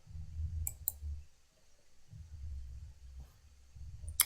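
A computer mouse clicks while working in Excel: a few sharp, isolated clicks separated by pauses, over a low steady hum.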